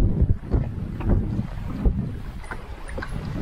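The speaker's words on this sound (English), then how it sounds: "Oh, nice and windy here." Strong wind buffets the microphone outdoors at a campsite, a continuous low rumble with gusty surges and no voices.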